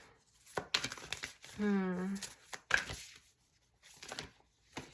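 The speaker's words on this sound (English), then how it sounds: "It's like hard to shuffle these cards as well." Oracle cards are shuffled by hand close up in quick papery riffles and flicks, with a brief vocal sound partway through.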